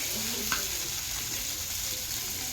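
Food fries in a pan at home with homemade fry masala, a steady close sizzle and crackle with a faint stir or tap near the start, no voices.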